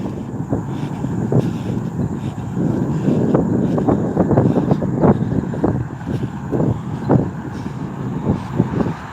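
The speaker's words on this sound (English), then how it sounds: "Pretty windy." Strong gusty wind roars across the microphone on an outdoor walk with light rain, a continuous heavy rumble broken by sharp buffeting thumps, with no one speaking.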